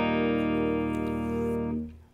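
Clean electric guitar through a bypassed Boss DS-1 pedal with Monte Allums Tri Roxx Plus mod, a single sustained chord ringing evenly and clearly, then fading out as it is muted.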